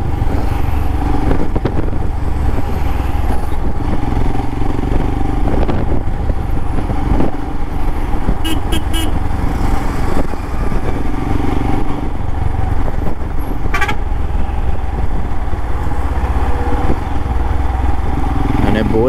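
A Royal Enfield Himalayan motorcycle cruises at steady speed on a highway, its engine drone and rushing wind loud and constant throughout, with faint traffic sounds now and then.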